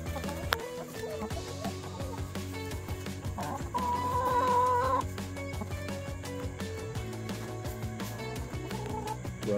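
Backyard chickens pecking and scratching at a sunflower head, with soft clucks and tapping heard close by over a busy outdoor background.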